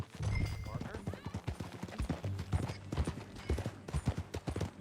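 Horse hooves clip-clop in a steady rapid rhythm in the video game Red Dead Redemption 2 as riders travel, with characters talking over the hoofbeats.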